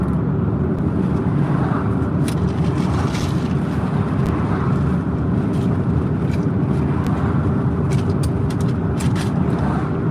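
A car drives along steadily with a constant low road and engine rumble that stays loud and unbroken throughout, and faint clicks and rattles inside the cabin now and then.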